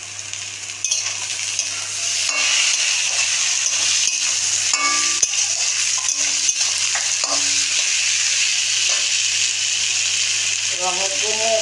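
Onion, green chili and tomato frying in a pan, a steady loud sizzle with occasional stirring scrapes and clinks, near and continuous, with a brief voice at the very end.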